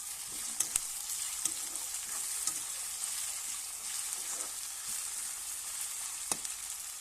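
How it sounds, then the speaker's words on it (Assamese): Taro leaves fry with ginger and garlic in a pan for an Assamese dish, a steady close sizzle broken by intermittent scrapes and clicks as the spoon stirs. "আকৌ এবাৰ ভালদৰে লৰাই দিছোঁ।"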